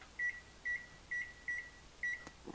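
A kitchen oven timer beeps in five evenly spaced double chirps, clear and moderately loud with no talking, after scallops have been broiling for about three minutes.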